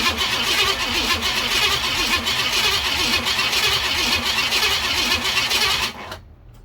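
The engine of a 1969 Pontiac GTO barn find cranks over on a new starter to build oil pressure, a loud rapid rhythmic churning that runs steadily for about six seconds, then cuts off.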